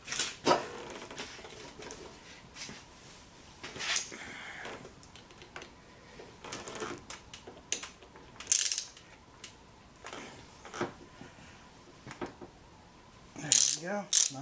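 Wrench clicking and clanking against a part being loosened on a Honda VT600 motorcycle, a series of short sharp metallic ratchet clicks and knocks at irregular intervals, close up in a quiet workshop.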